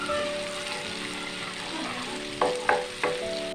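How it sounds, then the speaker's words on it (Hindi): Ginger garlic paste sizzling in hot ghee for an achari chana fry, a steady frying hiss with a few sharp stirring clatters near the end, no voices. "1 टेबलस्पून अदरक लहसुन का पेस्ट। घी गरम है"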